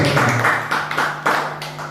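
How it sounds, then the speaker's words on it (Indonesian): An online church service congregation claps together in a steady rhythm, roughly two claps per second, over a low sustained musical tone. "Tepuk tangan saudara bagi Tuhan Yesus."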